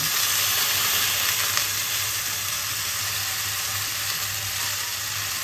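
Mixed vegetables for dry shukto frying in a pan as ginger paste goes in, a constant close sizzle and hiss with no talk.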